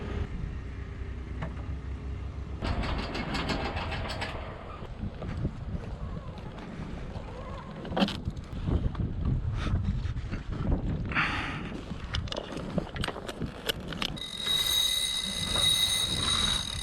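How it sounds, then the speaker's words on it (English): Sailboat engines idling while they warm up before a night departure, a steady low rumble under gusting wind noise on the microphone, with a few knocks and clatters nearby. "just about to leave, warming up the engines."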